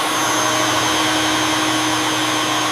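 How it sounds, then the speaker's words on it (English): A vacuum cleaner runs loud and steady throughout, a dense continuous whine and roar with a fixed motor tone and no pauses, heard alone without speech. "A vacuum cleaner removes dust."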